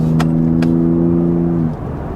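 A 2023 Ford F-150 Raptor pickup accelerating with its exhaust set to Baja mode, a loud, steady low engine drone that holds for about a second and a half and then drops away as the throttle eases, heard close from inside the truck.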